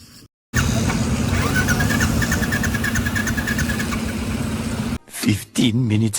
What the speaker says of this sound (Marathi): काका पण लागलेत गाडी स्टार्ट करण्याच्या मागे